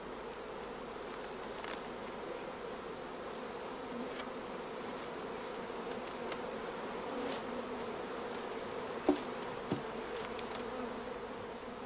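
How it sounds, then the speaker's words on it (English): Honey bees buzz in a dense, steady drone from a crowded starter colony used for queen rearing, a continuous close hum with a couple of brief sharper sounds near the end. "The starter colony should be overflowing with bees"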